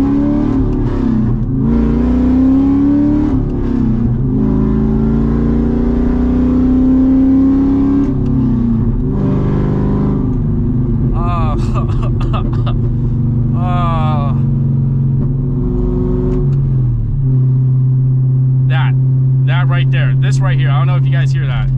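Straight-piped C6 Corvette V8 heard from inside, a loud, raw engine droning and climbing through revs with rising and falling pitch, sharp crackling pops on throttle lift-off, and brief overlapping talk.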